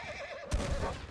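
A horse in the video game Red Dead Redemption 2 gives a wavering whinny followed by a louder snorting burst, close and brief, with no talk.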